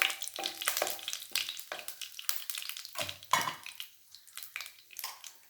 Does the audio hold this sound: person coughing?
no